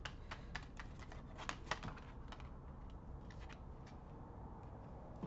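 Tarot cards are shuffled and drawn, giving a quick run of crisp, papery snaps and flicks. The snaps are close and fairly faint over a steady background hiss, with no voice.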